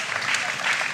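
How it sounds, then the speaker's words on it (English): A crowd claps steadily through a Shark Tank style pitch event in 2017, a dense and continuous wash of applause with no pauses. "Give them another round of applause."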